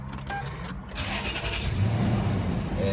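A four-wheel-drive vehicle's push-button start: a few light clicks, then the engine catches at about one second and settles into a steady, close rumbling idle with no talking.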